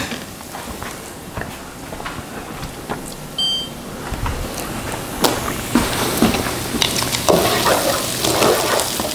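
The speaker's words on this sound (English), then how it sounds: "Check on my onions, stir them up frequently" Onions fry in a pan with a constant close sizzle, broken by scattered clicks and scrapes of stirring that grow busier toward the end.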